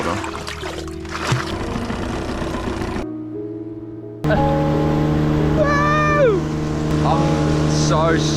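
An outboard motor hums steadily, cutting briefly to a lower idle before roaring back up, with shifting whines and water noise around it.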